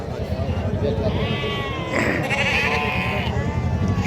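Sheep and lambs bleat in a busy livestock market in Amingad, Karnataka, with several close animal calls rising over a steady murmur of crowd voices.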